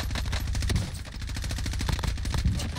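M4A1 rifle gunfire in the online shooter Truy Kích, loud and close, in rapid automatic bursts of sharp repeated shots with barely any pause, running throughout.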